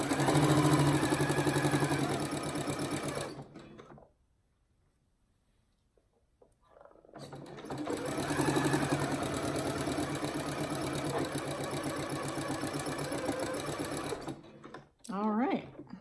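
A sewing machine stitches fabric for a drawstring bag, running in a steady rapid whir for a few seconds, pausing in near silence, then running again at length before stopping with a short burst at the end.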